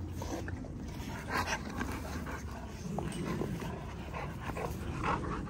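XL Pitbulls make soft, scattered dog sounds, short whimpers and yips, in a cluttered indoor room, close but fairly quiet, with no talk.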